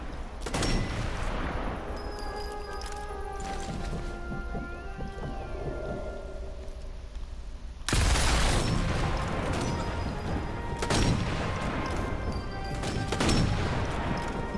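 Sniper rifle shots in Sniper Elite 4, loud sharp cracks with a heavy booming tail, several spaced apart over a steady rainy, noisy ambience.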